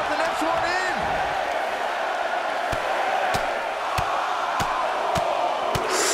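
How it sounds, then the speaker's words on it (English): A large video game crowd in a WWE 2K22 Royal Rumble match roars steadily, counting along as sharp rhythmic slams land about once every second, swelling with the beat. "Listen to this crowd count the next one in."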